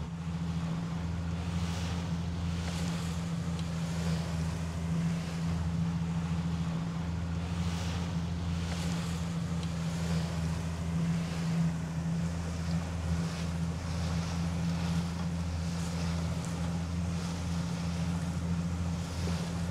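A boat motoring across open water while mapping seabed contours, a steady low engine hum with continuous wash and wind noise, constant and unbroken throughout.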